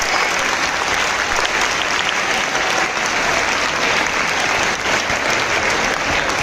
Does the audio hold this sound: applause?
yes